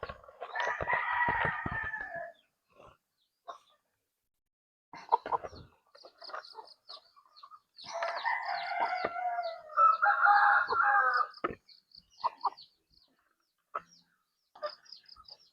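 Backyard chickens raised in Basilan, with a rooster crowing in several loud bursts amid scattered clucks and bird calls, separated by short quiet gaps.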